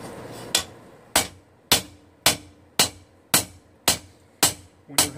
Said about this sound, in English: When you're hammering in bevels, you want to alternate between the sides